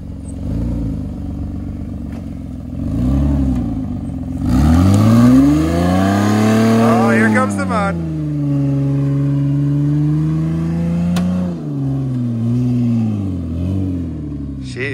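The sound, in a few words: Ford Freestyle engine revving, all-wheel drive climbing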